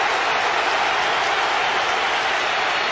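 A stadium crowd at a football match applauds player Barış Telli, a broad, even wash of distant clapping and crowd noise sustained at constant loudness.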